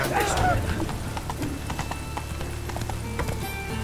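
Roach the horse gallops in The Witcher 3 with a steady, rapid clip-clop of hooves and a brief whinny near the start, while a voice talks over the opening.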